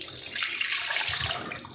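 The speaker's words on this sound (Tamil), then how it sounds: "தண்ணி ரொம்ப அதிகம் ஊற்றாதீங்க." Water is poured into a pressure cooker holding mutton for Keeranur mutton biryani, a close, steady splashing stream lasting a couple of seconds.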